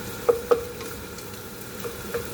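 Eggs being mixed into sautéed bitter gourd in a pan for Filipino ginisang ampalaya: a low steady sizzle with two quick utensil knocks early on and two softer scrapes near the end, close and alone.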